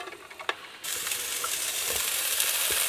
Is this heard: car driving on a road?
no